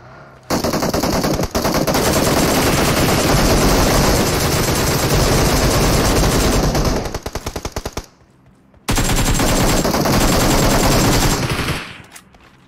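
Long, loud bursts of automatic machine-gun fire in a shooter video game rattle almost without pause, stop briefly, then return in a second sustained burst.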